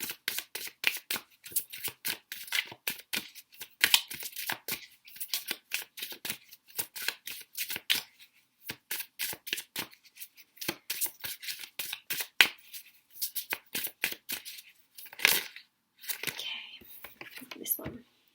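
Tarot cards being shuffled in quick riffling bursts with brief pauses, close and crisp, repeating throughout with occasional soft speech between.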